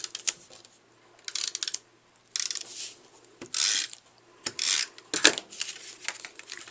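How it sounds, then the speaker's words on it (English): A snail adhesive tape runner is rolled along the back of a paper strip for a card, giving several short, close rasping bursts with faint clicks and quiet gaps between, and no speech. "I'm going to apply some adhesive on the back. And I'm just using snail adhesive."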